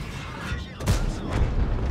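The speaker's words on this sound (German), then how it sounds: "Boah, was war das denn für ein Schuss?" The T57 Heavy's autoloader cannon fires in World of Tanks, two heavy booming shots under a second apart over constant engine rumble, loud and close, with no speech.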